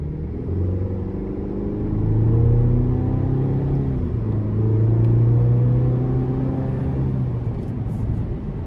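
A 2026 GMC Canyon Elevation pickup accelerates on a test drive, its engine a steady, loud droning rumble heard from inside the cab, with pitch climbing through the gears and easing briefly between shifts, with no talk.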